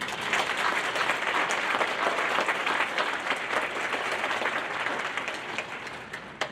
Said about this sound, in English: Please join me in a well-deserved round of applause for these young people.